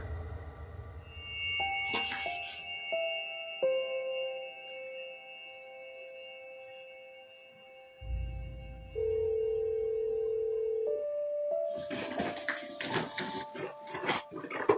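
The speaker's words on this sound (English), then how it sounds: "Answer the fucking phone." Telephone ringing amid electronic tones and beeps in a tense, apparently haunted setting, a sustained tonal ring pattern shifting pitch over several seconds, with bursts of noisy clatter near the start and end and no talk.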